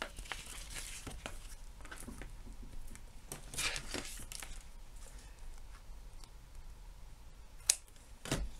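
Scissors snip away overhanging paper scraps on a handmade accordion card pocket, a series of quiet, close cuts and light paper rustles spaced irregularly, with a sharper snip near the end.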